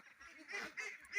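Ducks on a duck farm, a flock recovering after a disease outbreak, giving a quick, faint burst of nasal honking quacks lasting about a second.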